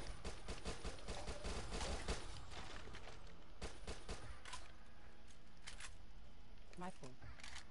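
SMG gunfire in the game Dead Nation: Apocalypse Edition, rapid repeated bursts of shots that crowd the first half and then thin into scattered single cracks.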